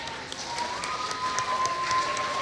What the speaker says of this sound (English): let's give them a nice big round of applause.